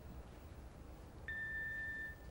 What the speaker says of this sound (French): Laissez un message après le bip